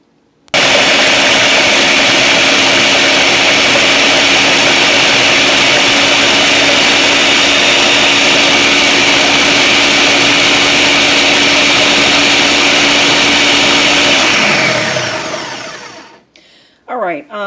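A blender whirs continuously at high speed while blending a raw cacao drink, loud and steady for about fourteen seconds before winding down to a stop, with a couple of faint bumps afterward.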